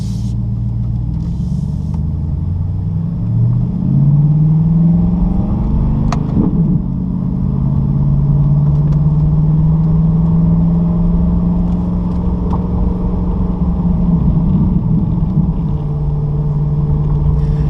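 A Chevrolet Corvette C8 fitted with a Borla ATAK exhaust drives with its valves open, the V8 droning loud and close through shifts and rising revs, then settling into a steady deep cruise.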